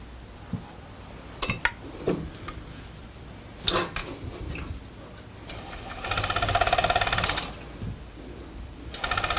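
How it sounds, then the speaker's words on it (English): A sewing machine stitches the shoulder seams of a butterfly top, running in short intermittent bursts with a longer steady buzzing run near the end, close and clear with no talk. "So now I'm ready to stitch the shoulder seams."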